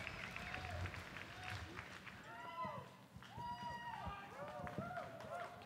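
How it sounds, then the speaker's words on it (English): A crowd at a disc golf world championship roars and cheers excitedly, swelling in waves over the whole stretch, with a voice talking over the noise. "Hear that crowd getting excited."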